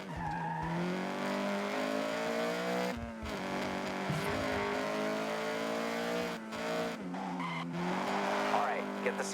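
Honda CRX in the racing game Forza Horizon 6 revs and accelerates at full throttle toward a bridge, a steady loud engine drone with tire squeal and brief gear-change dips while a person talks.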